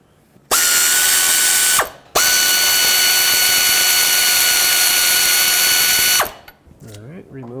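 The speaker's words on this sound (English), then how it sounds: "From underneath, break free this bolt that holds the alternator on the bottom." Power tool or ratchet breaking loose the lower alternator mounting bolt from underneath a Toyota Sequoia, a loud steady whirring burst of about a second and a half, a brief pause, then a second sustained run of about four seconds, with faint talk at the end.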